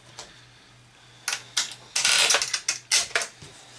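A screwdriver set on a low clutch drives long screws back into an Xbox 360 casing during a red ring of death repair, giving a few sharp mechanical ratcheting bursts and clicks between quiet pauses, close up, no voices.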